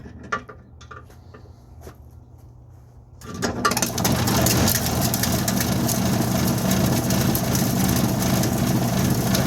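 Small ore mill tumbling little chunks of quartz starts up after a few quiet seconds with scattered knocks, then runs as a loud, steady mechanical rumble and rattle close by.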